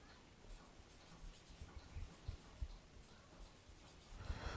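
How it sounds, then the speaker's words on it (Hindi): Pen or marker writing by hand on a board or paper during a maths lesson on circle perimeter and area, a faint scratchy rhythm of strokes that grows a little louder toward the end. "अब हम लिखेंगे"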